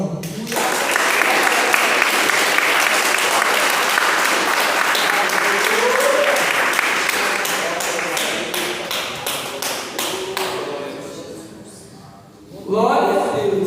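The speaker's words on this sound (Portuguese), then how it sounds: "as palmas ao Senhor" A congregation at a Portuguese-language family church service claps in dense, sustained applause that thins into scattered claps, pauses briefly, then picks up again as a voice comes in.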